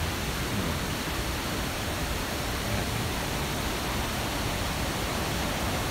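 Luang Siriphum waterfall roaring as a steady, dense wash of falling water, loud and unbroken without any voices.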